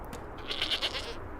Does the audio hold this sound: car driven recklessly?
no